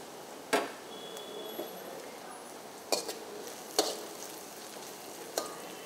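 Pakoras for vada curry fry in hot oil with a steady, quiet sizzle, punctuated by several sharp clinks of a metal utensil against the pan at irregular intervals.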